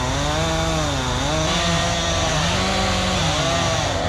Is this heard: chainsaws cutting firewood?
yes